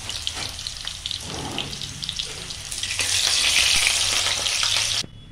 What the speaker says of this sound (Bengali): সে আলুটা ভেজে তুলে রাখি।